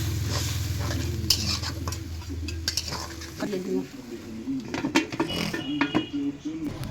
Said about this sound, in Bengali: এবার মশলাটা এরকম কষা হবে।